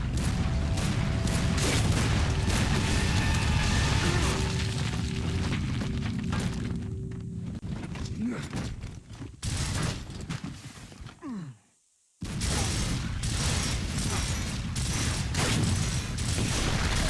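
Rapid video-game gunfire in combat against a group of snipers, dense bursts of shots and impacts running almost continuously, with a brief silent gap before the firing resumes loudly.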